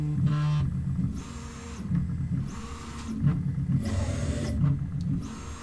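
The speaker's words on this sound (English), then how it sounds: "while it's printing, this is actually quieter than the Mark IIs." A 3D printer working on a homemade sewing table in a garage, giving a steady mechanical whirr with repeating motor sweeps roughly every second, moderately loud and close, with no talk.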